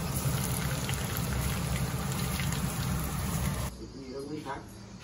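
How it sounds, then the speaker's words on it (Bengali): Chop croquettes frying in hot oil at a home birthday gathering, a dense steady sizzle and crackle that fades somewhat near the end, with faint background voices. "আমাদের চপ ভাজা চলছে"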